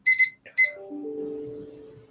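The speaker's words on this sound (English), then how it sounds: "And I need my timer." A timer alarm beeps in a few short high electronic bursts, then gives way to a sustained lower tone, fairly close and clear without speech.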